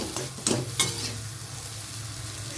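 Broad beans and egg stir-fry in a pan, sizzling steadily while a spatula scrapes and stirs twice early on, then the frying hiss carries on alone.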